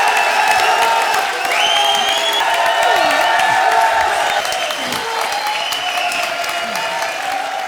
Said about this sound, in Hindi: उस बात पर जोरदार तालियां हो जाएं।